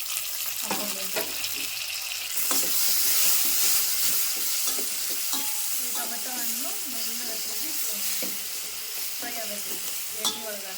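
Finely chopped tomatoes sizzle and spit in a hot pan over onions already fried golden, with steady frying hiss and frequent scraping stirs from a spoon, close and fairly loud throughout.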